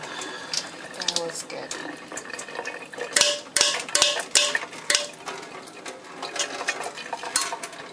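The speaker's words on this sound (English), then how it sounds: "I'm trying to drain the excess water." Excess cooking water is drained from a pot of Haitian legume at a kitchen sink, a rushing pour mixed with clanks and scrapes of the pot against the sink.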